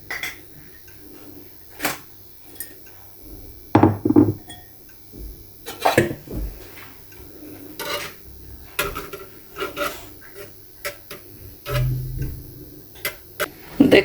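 Egg mixture being stirred continuously in melted ghee in a pan for egg zarda, giving intermittent scraping and rasping strokes with small clinks, close and fairly quiet, with no talking.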